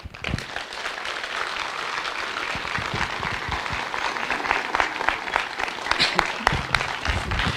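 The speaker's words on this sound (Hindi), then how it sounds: "एक बार जोरदार तालियां सारिका जी के लिए, जोरदार।" A seminar audience breaks into loud, sustained applause for a speaker, dense clapping building steadily and continuing throughout at close range.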